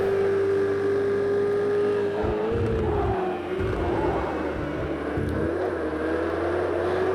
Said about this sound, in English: Banging the sausage curb, that unstabilizes the car.